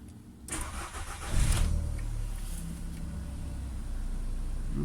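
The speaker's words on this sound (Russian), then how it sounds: "машина завелась, никаких ошибок не выдает" A Volkswagen Jetta's engine cranks and catches outdoors in sub-zero cold after an engine wash, the start rising to a steady, moderately loud idle that hums on alone.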